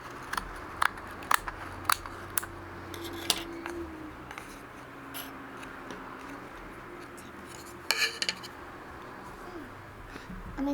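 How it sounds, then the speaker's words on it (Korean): Scissors snipping through the middle of a cardboard weaving card for a coaster, making sharp intermittent clicks and cuts over a steady background hum, close up, with no talking. "여기 중간 부분을 가위로 잘라줄게요."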